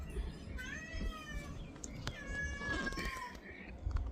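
A cat meows several times in a row outdoors near a garden fence, its mewing cries rising and falling over a steady background hum.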